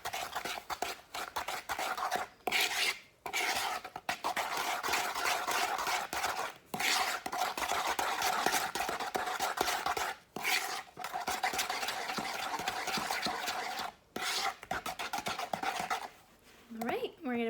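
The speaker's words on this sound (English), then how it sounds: "we're gonna mix all of our wet ingredients together" Wet cookie ingredients are stirred together in a bowl with steady, close rubbing and scraping strokes, broken by a few short pauses as the mixing carries on.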